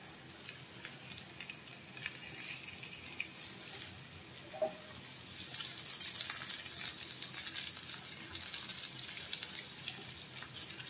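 Fried pointed gourd (potol) stirred into browned onions in a pan, giving a soft steady sizzle with scraping stir sounds that grows louder partway through, heard alone without talk.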